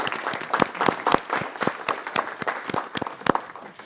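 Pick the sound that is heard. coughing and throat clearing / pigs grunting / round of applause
round of applause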